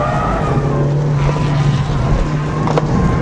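A 2006 Mitsubishi Evo IX MR corners hard on a racetrack, its engine droning loud and close while the tyres scrub and squeal through the turn with the tail swinging around, and no talking.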